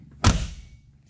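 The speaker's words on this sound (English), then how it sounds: "Okay, we're gonna shut this door." A single solid thud as the door of a 1985 Peugeot 505 LX is shut, heard close up and alone, with a short fading ring after it.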